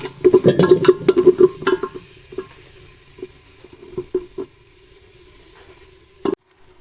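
A spice mixture is stirred into hot oil, opening with a burst of loud scraping strokes that thin out to scattered taps over a quiet sizzle. The sequence ends in one sharp knock.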